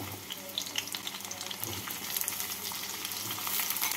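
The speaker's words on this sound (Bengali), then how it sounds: "গাজরগুলোকে নাড়াচাড়া করে নিচ্ছি।" Carrot pieces frying in hot oil in a pan while being stirred, making a close, continuous crackling sizzle that swells slightly toward the end.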